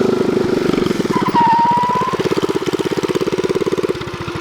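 A small mini bike engine at full throttle, set up for wheelies, runs loud and close with a rapid, rough, pulsing single-cylinder exhaust beat that steadies into an even chop.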